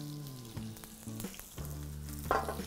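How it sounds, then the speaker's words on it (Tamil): Chopped spring onion bulbs sizzle in hot oil for vegetable fried rice, a steady close frying hiss with a few stirring knocks and a brighter burst of sizzle near the end. "அந்த ஆயிலில் நான் இங்கே ஸ்ப்ரிங் ஆனியனோட கீழே இருக்கிற அந்த ஆனியன் பார்ட் மட்டும் போட போகிறேன்"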